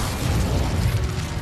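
Incendio fire spell cast in the video game Hogwarts Legacy: a dense, continuous burst of rumbling fiery whoosh with a heavy low boom throughout, loud and steady for about a second and a half, with no talk.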